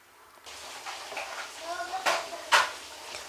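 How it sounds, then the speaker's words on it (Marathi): A ladle stirs chicken Schezwan soup thickened with a flour slurry in a pot, with soft scraping and a couple of sharper clinks against the metal near the end, some faint voice-like tones in the mix. "त्यामध्ये आपण हे कालवून घेतलेलं जे पीठ आहे ते टाकून घ्यायचं आहे आणि आपल्याला कंटिन्युअसली हलवत राहायचं आहे"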